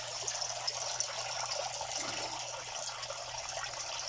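Water from a submersible pump in a backyard fishpond, a steady soft splashing and trickling wash with a low hum beneath, continuous and fairly faint.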